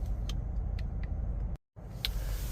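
A Toyota Land Cruiser rumbles steadily as it gets under way, a low engine drone holding throughout with a few light ticks, broken by one brief total dropout before the drone resumes.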